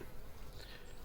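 Bees at a hive during syrup feeding give off a steady, dense buzzing hum that fills the whole short moment at close range, with no voices.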